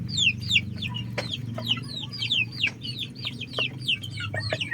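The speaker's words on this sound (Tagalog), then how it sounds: "Nakita ko na sa inyo yung actual na pagpapakain natin sa ating mga alagang manok." Pet free-range chickens cluck busily during feeding, a dense overlapping chorus of short calls from several birds over a low background rumble, close and fairly loud, with no talk.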